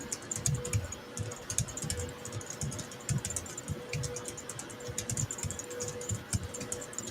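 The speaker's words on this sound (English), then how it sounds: "Man, Patrick, got a lot of ticking going on over there. Your keyboard is." A computer keyboard clicks and ticks in quick, irregular bursts of keystrokes, fairly quiet and close, with a faint steady hum behind it.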